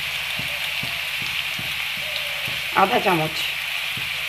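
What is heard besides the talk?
chaumin frying with green chillies and salt in a pan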